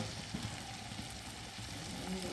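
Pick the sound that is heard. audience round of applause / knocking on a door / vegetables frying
vegetables frying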